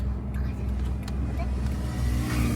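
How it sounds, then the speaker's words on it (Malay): Steady low road rumble fills the cabin of a moving car on the drive home, a continuous hum with faint shifts, heard with no one speaking over it. "Sebab bising kereta tu."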